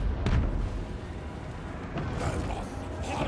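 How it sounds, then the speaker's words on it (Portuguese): A great cannon fires in the video game Total War: Warhammer 3, a loud booming blast followed by rumbling battle noise and a second heavier impact, with no talk over it. "canhão grandioso."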